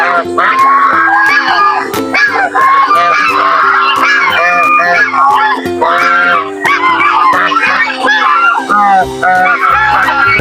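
A flock of geese, including a large breeder goose, honks loudly and continuously close by, many overlapping calls with no pauses, raucous throughout.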